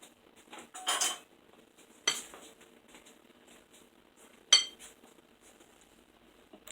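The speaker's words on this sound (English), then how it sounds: "Now take the whisk and whisk it together easily." Milk and flour being whisked in a bowl, heard as scattered clinks and scrapes of a utensil against the dish with a few louder knocks between quieter stirring, close and sparse.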